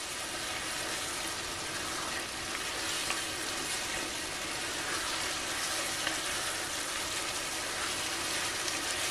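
A pan sizzling with smoked paprika as the moisture cooks off: a dense, even, quiet frying hiss that runs unbroken with no voices.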